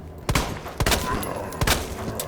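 Several loud, sharp Desert Eagle pistol shots ring out in the Resident Evil 2 Remake video game, about four booming cracks spaced irregularly over a couple of seconds against a rumbling background.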